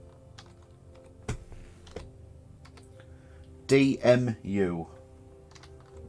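Sparse, distinct key presses on a computer keyboard while entering a redemption code, with a few separate clicks spaced apart and a short burst of speech partway through.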